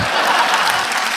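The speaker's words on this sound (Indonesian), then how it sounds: "Boleh tepuk tangan dong buat mas-mas ini." Audience applause in a talk-show studio, a short, dense, even wash of clapping heard close throughout.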